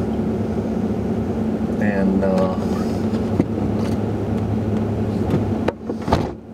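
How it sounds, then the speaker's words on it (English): A plow truck idles in a snowy side lot with a steady low engine drone and hum, while someone talks over it. "I'm sitting here right now with the truck idling"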